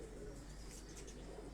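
Pigeons coo softly and steadily in a brief, faint stretch.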